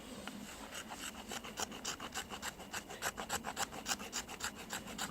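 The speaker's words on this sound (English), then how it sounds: "We're going to scrape the fat wood here." A Fällkniven F1 knife blade scrapes fat wood in quick repeated strokes, a close, faint rasping that speeds into a steady rhythm with no talk.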